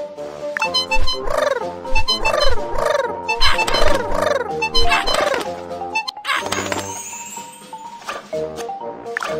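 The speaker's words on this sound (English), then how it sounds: "There are birds. Chase them away quickly." Cartoon birds in the Panda World children's fire safety game, a run of loud gobbling, warbling calls repeating in quick rhythmic bursts, with game sound effects and a chime near the end.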